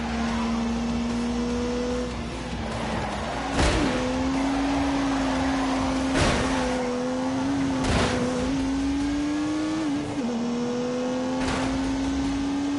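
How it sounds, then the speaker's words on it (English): Turbocharged 3-litre straight-six engine in a PS4 racing game, holding a steady, loud drone with rising and falling pitch, broken by several sharp shift-like bursts across the run; no talk. "unleashed 365 rampaging horsepowers from the turbocharged 3-litre straight 6"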